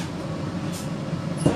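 Low, steady rumble inside a modern sleeper train travelling in Kazakhstan, a continuous close drone with no voices and a faint brief rattle near the end.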